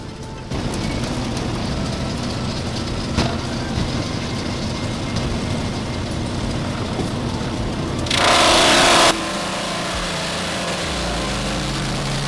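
A powerful wood crusher and chipper grinds through branches, knots and damp wood with a loud, steady engine roar and dense shredding noise, plus a sharp hissing burst about two-thirds of the way through.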